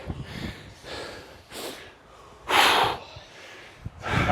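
Heavy recovery breathing after barefoot sprints: repeated loud, forceful breaths and snorting exhales close to the microphone, coming in uneven bursts roughly every second.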